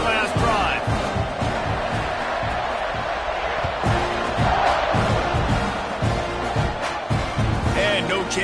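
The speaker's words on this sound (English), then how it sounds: "this crowd is feeling themselves after that last drive" A football stadium crowd at an FSU versus Texas A&M game roars and cheers after a touchdown drive, a dense steady wall of noise with a commentator talking over it.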